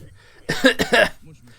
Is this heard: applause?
no